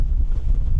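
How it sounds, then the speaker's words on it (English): Steady, loud wind buffeting a microphone, a continuous low rumble throughout. "it's a bit windy."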